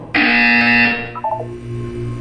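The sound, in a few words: buzzer in video game Portal 2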